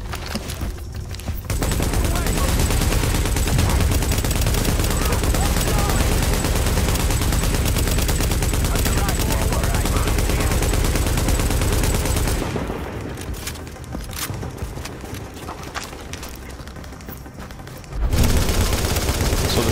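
Dense gunfire from the video game Tom Clancy's The Division fills most of the clip as a loud, continuous rattling barrage, dipping briefly near the end before a final sharp burst returns.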